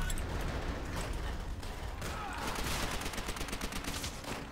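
Sustained automatic gunfire and overlapping shots from Call of Duty: World at War on PC, loud and dense throughout with rapid rattling bursts and no pauses.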